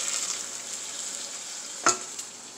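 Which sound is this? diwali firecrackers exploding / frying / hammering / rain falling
frying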